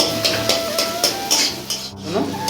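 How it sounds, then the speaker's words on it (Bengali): Onion and green chilli fry in a pan while a utensil stirs them in a regular rhythm of scraping strokes over a light sizzle, close and fairly loud. "এই যে পেঁয়াজ আর কাঁচা লঙ্কাটা ভাজছি হালকা করে ভাজবো"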